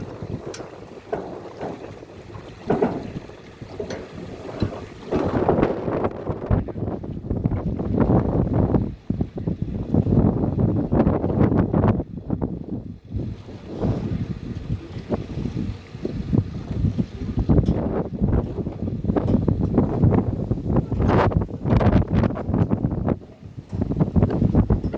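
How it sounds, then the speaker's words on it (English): Strong wind on a dock at Silverwood Lake batters the microphone in a loud, continuous rumble with repeated gusts and bursts. "it's windy as heck out there"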